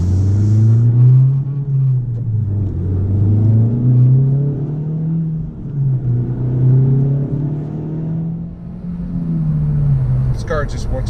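A Honda Civic Type R with a manual gearbox drives along, its engine a steady loud drone that rises and falls with throttle, heard from inside the cabin with road rumble beneath.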